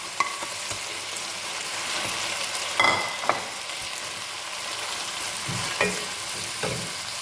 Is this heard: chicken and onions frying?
yes